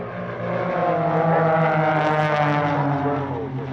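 Propeller engines of aerobatic aircraft, including a Wirraway and Wolf Pitts biplanes, drone and swell as they pass at an airshow, rising to a loud peak midway before easing off.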